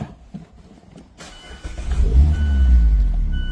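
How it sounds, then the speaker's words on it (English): A Mazda Miata's engine cranks and starts, settling into a deep, steady idle rumble that grows louder after a quiet opening of faint clicks and rustling. "If I go into the Miata and start up"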